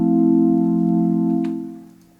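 A single sustained major chord with an extra note stacked on top rings out steadily and then decays over about two seconds, alone and fairly loud.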